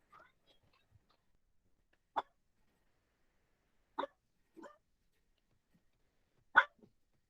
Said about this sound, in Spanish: Creo que solo el perro quiere opinar.